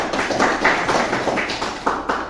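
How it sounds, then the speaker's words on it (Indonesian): Classroom audience applause for a student group, a steady burst of many hands clapping fairly close and loud, without pause for about two seconds. "Coba beri tepuk tangan dulu untuk kelompok 3."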